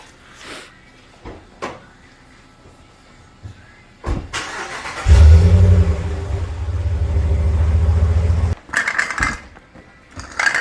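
A Ram pickup truck engine starts up and rumbles loudly with a deep, steady low drone for several seconds, after some scattered clunks and knocks.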